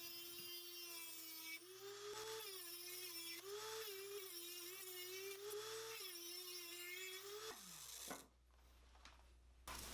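A Dremel on a small homemade crosscut sled cutting bushing pieces from square tube stock: a steady, high, whining motor drone close up for about eight seconds, then winding down sharply near the end.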